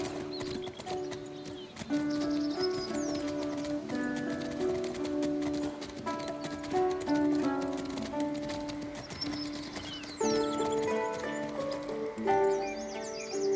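A majestic horse with a flaming mane in the fantasy game Legends of the Round Table, hooves clip-clopping steadily beside a pond in a sunlit thicket, with a brief whinny over a continuous orchestral music bed and faint birdsong.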